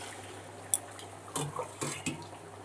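Hot water poured from a cup into a pot of mixed pulao with rice, meat, fish and egg, heard as a few short splashes and clinks against the pot over a quiet kitchen background.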